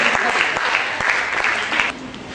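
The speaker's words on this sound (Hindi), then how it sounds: "बहुत जोरदार तालियां होनी चाहिए।" Loud audience applause at a school Mother's Day celebration, a dense burst of clapping from a crowded hall that fades near the end.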